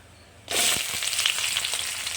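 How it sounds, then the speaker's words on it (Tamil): Sliced onions hit hot oil in a pan already holding browning chana dal for knol khol poriyal, bursting into a sudden loud, steady sizzle after a quiet start that carries on close and continuous. "வெங்காயத்தை லைட்டாக வதக்கி வெங்காயம் அதிகமாக வந்துட்டு இருக்கு"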